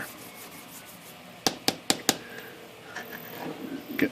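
A towel wipes over a typewriter platen from a Royal KMM/KMG typewriter during cleaning, a few quick sharp scrubbing strokes in a row followed by softer rubbing, close and fairly quiet.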